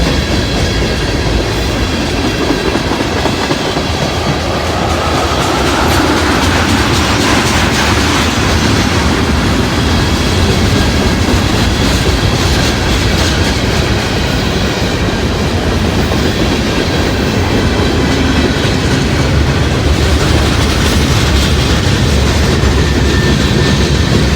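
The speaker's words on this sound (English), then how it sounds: "Big old 86-foot boxcar." Freight train with an 86-foot boxcar rolling past close by, a loud, dense, continuous rumble and rattle of wheels and cars, steady throughout with no voices.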